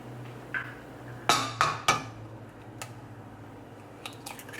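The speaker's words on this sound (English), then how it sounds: "let's crack the eggs on" Eggs cracked one after another on the rim of a pan coated with tallow over low heat, three crisp close taps in quick succession over a steady hum of the stove.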